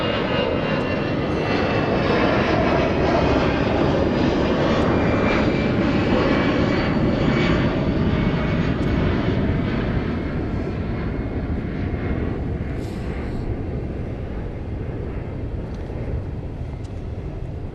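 A British Airways Boeing 777 taxiing at Gatwick Airport, its engines giving a loud, steady broadband roar and whine throughout, heard fairly near, fading slightly toward the end.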